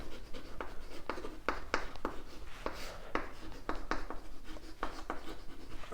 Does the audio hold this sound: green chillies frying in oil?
no